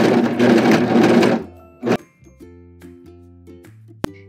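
A cover stitch sewing machine hemming the raw edge of underwear runs in a loud, steady burr for just over a second. Quieter clicks and light tonal clunks follow as it stops.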